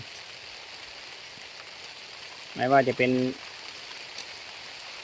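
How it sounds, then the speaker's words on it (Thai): Steady rain falls outdoors in a yardlong bean plot, a soft continuous hiss under a man's brief spoken phrase. "โอ้ยฝนก็ตกลงมาแล้วนะครับ"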